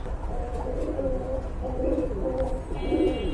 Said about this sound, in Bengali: এই যে দেখেন কবুতর জোড়াটা মাশাআল্লাহ খুবই সুন্দর